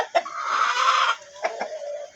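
A mother hen clucks close by in a few sharp bursts, then lets out a longer drawn-out cackle before more short clucks, with no voices over it.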